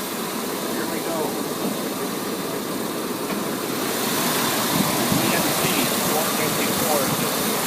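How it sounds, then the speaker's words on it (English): A moving truck's engine idles steadily nearby, a broad continuous rumble and hum that grows slightly louder partway through, with no talk over it. "There's the motor."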